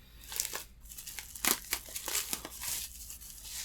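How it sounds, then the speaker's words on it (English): Scissors cutting into a tightly sealed Japanese Sega Saturn game case, heard close as crisp crinkling and snipping of plastic shrink wrap in short irregular bursts. "I need the scissors again"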